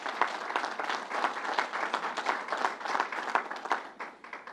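An audience at a New York governor's announcement in Nassau County breaks into steady applause, many hands clapping together in a sustained, moderately distant roar that swells and fades slightly over several seconds.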